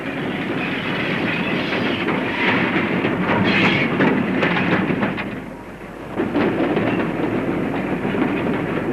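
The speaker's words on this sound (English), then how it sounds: "we'll follow the goods train through the town of Highbridge to its lonely end and come to Highbridge Wharf" A goods train on the Somerset and Dorset line runs through Highbridge toward Highbridge Wharf, a loud, steady rumble and rattle of wagons that dips briefly before surging back.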